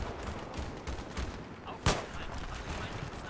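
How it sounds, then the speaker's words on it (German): Allied gunfire in the shooter game Battlefield 3 crackles steadily in the background as a dense, distant fusillade, with one sharper, louder report standing out near the middle. "Meine Kumpels schießen da drauf."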